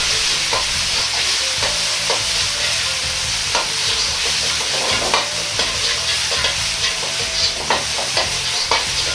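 Tofu mince stir-fried quickly in sesame oil, a loud continuous sizzle with frequent scraping and tossing clicks throughout, no voices.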